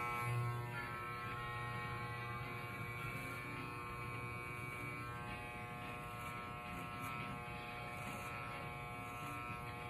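An electric hair clipper buzzes steadily and close during a haircut, a continuous even hum with no breaks and no speech.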